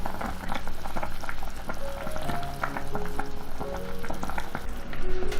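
A pot of durian chicken soup with goji berries and five-finger peach root simmers on low heat, giving a steady close bubbling and gurgling with soft pops, while faint tonal notes play underneath.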